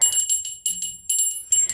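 A small handheld bell rings in quick bursts of bright, high tinkling jingles, about four shaken clusters with short gaps between them, close and clear.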